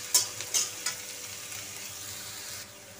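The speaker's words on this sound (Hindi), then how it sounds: "अभी सारे प्याज और लहसुन को हम मिला लेते हैं तेल में, चलाते हुए भूनते हैं इसको।" Onion and garlic fry in hot oil while being stirred, a steady close sizzle broken by a few sharp scrapes of the spatula against the pan early on.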